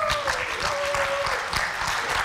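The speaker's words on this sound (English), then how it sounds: "And the audience should clap." An audience at an ACE academic competition match in Siloam Springs claps throughout, a steady dense patter with a faint tonal whine running beneath it.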